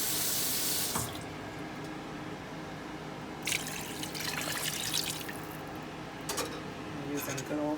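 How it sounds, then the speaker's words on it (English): Kitchen tap water runs steadily from the faucet with a strong rushing hiss, its flow shifting slightly as it fills a pan, while a person speaks over it. "I'm using good old-fashioned tap water."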